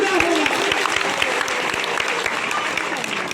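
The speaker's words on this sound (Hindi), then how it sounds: "तालियां तो आप लोग सभी बजा रहे हैं" A crowd at a religious discourse during the Dussehra festival breaks into steady, dense applause, many hands clapping together at close range in a continuous loud wash with no pauses.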